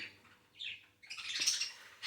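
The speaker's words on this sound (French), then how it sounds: "J'ai les oiseaux qui sont d'accord avec moi." Pet cage birds chirping indoors, several bright short tweets and squawky calls in quick bursts, close and fairly faint, with no talk.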